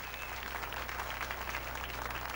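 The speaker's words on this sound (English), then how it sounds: "Nice round of applause for this fine gentleman, a good high rollers player." Studio audience applause at a televised game show, steady and dense across the whole stretch over a low constant hum, with no pause in the clapping.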